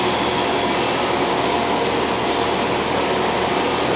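Workshop fans run in a dusty shop, giving a steady, even whooshing drone with no speech and no change in level.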